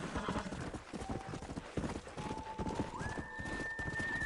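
A horse gallops in the video game Red Dead Redemption on PS4, with a steady rhythmic clip-clop of hooves and a brief whinny, all under a sustained musical tone.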